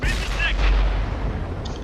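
A tank cannon in World of Tanks fires a single loud, heavy boom that decays quickly, with battle noise around it.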